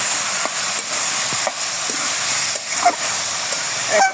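Vegetables sautéing in a pan for chorchori, a continuous close sizzle and hiss with a few light utensil clicks and faint voices underneath.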